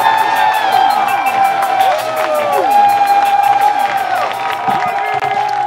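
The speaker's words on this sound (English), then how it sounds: "put your hands together right now and start clapping" A live variety-show audience cheers and claps in a steady rhythm, a lively crowd noise that runs under loud voices and tonal sound throughout.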